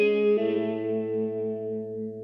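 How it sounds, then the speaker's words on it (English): A sustained note plays from an Omnisphere Dirty Baritone synth preset with its chorus echo switched off, a thick, buzzy tone that shifts to a lower pitch early on and then rings steadily and slowly fades. "It's the Dan's Studio Dirty Baritone, and I didn't do anything to it apart from turn off the chorus echo"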